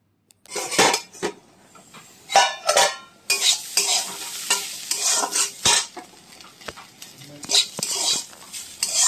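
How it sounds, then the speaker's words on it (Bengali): Onions fry in a pan while a metal spoon stirs and scrapes against it in repeated sharp clinks and scrapes, all set over a continuous close sizzle. "এই দিকে পেঁয়াজটা ভাজতে লাগলাম"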